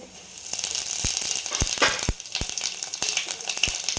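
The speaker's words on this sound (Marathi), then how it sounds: "तेल छान गरम झाल्यानंतर मोहरी टाकू त्याच्यानंतर जिरे टाकायचे" Mustard seeds and cumin dropped into hot oil, a steady crackling sizzle with sharp irregular pops as the seeds burst, close and loud with no talking.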